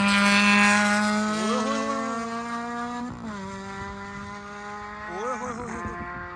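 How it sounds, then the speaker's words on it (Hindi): Race cars speed past at the Daytona race track, engines whining with rising and falling pitch sweeps as they pass, loud and sustained, one car after another in the distance and then closer. "पहले बाहर से गाड़ियों की आवाज़ें ना आती, तो मैं समझ रहा था कुछ भी नहीं हो रहा"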